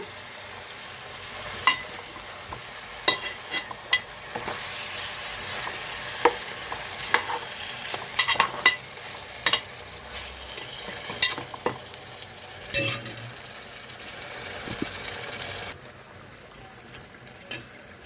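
Fish pieces coated in salt, chili powder and turmeric fry in hot oil for a curry, with a steady close sizzle broken by frequent sharp scrapes and clicks of a stirring utensil against the pan, no voices.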